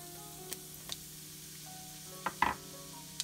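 Cumin and ajwain sizzle softly in hot oil, a low steady crackle broken by a few brief sharp pops and clinks, heard close with no talk.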